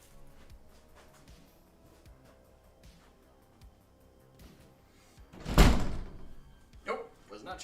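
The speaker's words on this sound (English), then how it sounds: "I'm gonna double check the door is closed because the little flies are coming in" A door is pushed shut at home to keep small flies out: one solid, close thump a little past the middle, a lighter knock shortly after, and quiet room noise around it with no talking.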